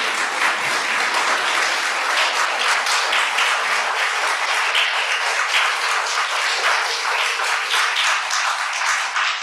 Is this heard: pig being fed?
no